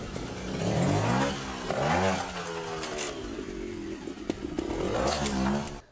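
A trials motorcycle engine revs in repeated throttle bursts during a wheel lift, rising and falling close by with some clatter between pulls.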